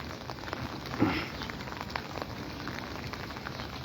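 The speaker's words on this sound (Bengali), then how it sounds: "দেখো বৃষ্টি কীভাবে পড়ছে" Heavy rain pours steadily in Comilla under a darkened sky, a dense, continuous hiss of drops striking surfaces with no voices.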